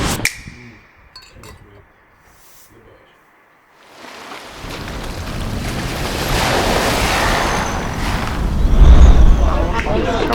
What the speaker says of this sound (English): So we're at a lovely beach.